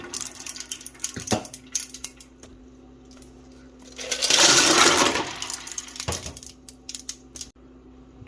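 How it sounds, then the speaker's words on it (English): Ice cubes clatter and rattle into a turkey brine, building to a loud, dense pour of ice in the middle, with scattered clinks before and after. "let's go ahead and get our ice in"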